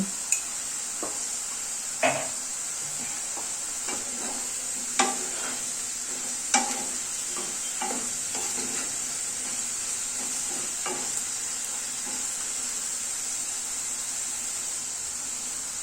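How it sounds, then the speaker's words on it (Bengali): Potatoes fry in a pan with a soft continuous sizzle, broken by a few sharp clinks and scrapes as a utensil stirs them, with no talking. "আলুটা প্রায় ভাজা হয়ে গিয়েছে এখন একটু লবণ দিয়ে দিচ্ছি"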